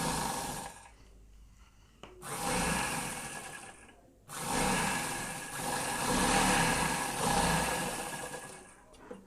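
A sewing machine stitches through buckram on a suit lining, whirring in three loud bursts of running motor noise separated by brief pauses, close up, with no speech.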